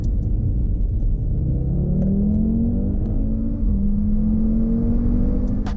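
A 2018 Audi RS3 engine pulls hard through a 30 to 70 mph sprint, a loud, steady rumble whose pitch climbs in smooth gear-by-gear sweeps, heard close from the cabin with no talking.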